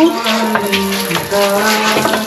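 Tap water runs steadily into a basin after supply returns following a typhoon flood, a close, loud splashing gush that holds throughout, with no voices.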